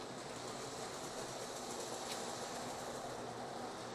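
A reconditioned Lionel O gauge model train runs on track on a relay-controlled 5x8 layout, giving a steady, faint rolling rumble and hum with no pauses.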